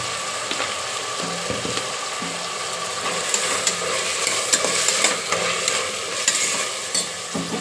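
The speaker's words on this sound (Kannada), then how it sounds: "ಸಾಲ್ಟ್ ಹಾಕೊಂಡು ಬನ್ನಿ ಅದೆಲ್ಲ ಒಗ್ಗರಣೆ ಸ್ವಲ್ಪ ಹೊತ್ತು ಬೇಯಿಸಿ" A salted tempering cooks in a pan for onion-flower pulao, giving a loud, continuous sizzle with repeated scraping and stirring strokes close by.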